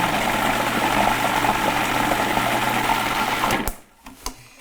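A blender purees fresh strawberries with a steady, loud whir that runs unbroken for several seconds, then cuts off abruptly, leaving a few faint clinks and knocks.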